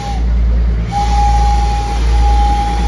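Matheran hill train rumbling past close by with a steady low clatter, a thin sustained whistle tone running over the top for most of the stretch.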